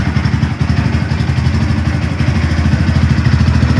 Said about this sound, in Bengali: তো আমি সাইলেন্সের সাউন্ড এখানে শোনাবো।